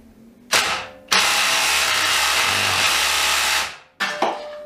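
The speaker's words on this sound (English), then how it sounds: "The drill's just going into safety mode." A DeWalt cordless drill whirs loudly in two bursts, a brief spin then a longer steady run that winds down as it goes into safety mode, followed by another short start.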